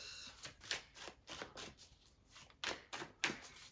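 Tarot cards shuffled by hand make a run of close, crisp riffling bursts in an uneven rhythm, with no talking.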